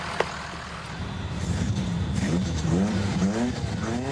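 A diesel-swapped Torino wagon accelerating hard off the line in a drag race, an engine roar building with rising revs and tire noise, fairly loud and close after a quieter start.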